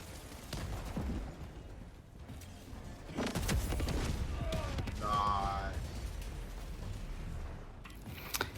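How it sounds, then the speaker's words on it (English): Orbital strike explosions in Helldivers 2 hit as a cluster of booming blasts and crackling bursts over a steady battle din, with a voice talking through the clip. "Calling in orbital strike."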